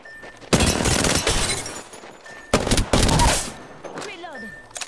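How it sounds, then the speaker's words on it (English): Rapid bursts of enemy automatic gunfire in the Apex Legends video game come in two loud volleys with short gaps, ending with glassy shattering and sweeping effects, while game voice lines sound briefly. "The enemies are shooting at me."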